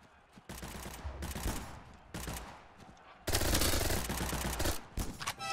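Gunfire from a sniper rifle in the FPS game False Front, with loud bursts of shots that have long echoing tails, grouped in several blocks and growing denser toward the end.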